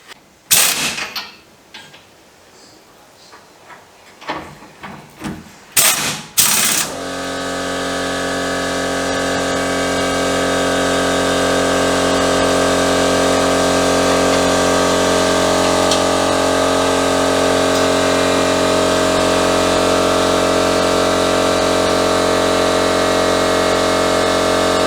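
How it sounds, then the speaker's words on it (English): A pneumatic rattle gun drives on a towbar fitting on a D22 Navara, a loud, steady mechanical whine and rattle running continuously after a few scattered knocks and clunks at the start. "I am going to smack it on with the rattle gun."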